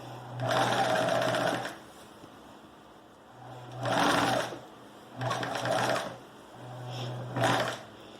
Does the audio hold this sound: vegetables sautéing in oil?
no